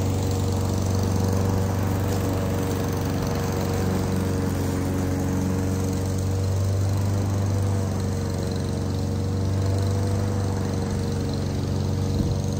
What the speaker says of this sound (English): There's our favorite lawnmower shot.